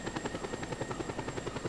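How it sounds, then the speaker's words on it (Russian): A powerful helicopter hoisting a car into the air gives off a fast, even rotor thump with a steady engine whine, heard faint and continuous without voices. "Даже такой вертолет, который очень сильный"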